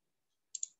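A computer mouse gives a quick double click, two sharp faint taps close together in an otherwise quiet room.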